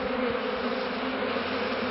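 Steady, close bee buzzing near a honey hive, a continuous droning hum with no break.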